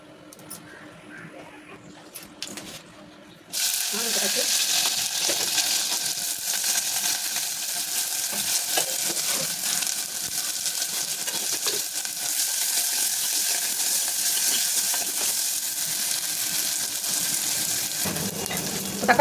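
Mustard, cumin and fenugreek seeds hit hot oil for a snake gourd sambar tempering. After a quiet start with light kitchen clatter, a loud, continuous hiss and crackle bursts in and keeps sizzling steadily to the end.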